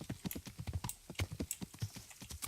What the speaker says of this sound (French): Ouais, j'avais un cheval par là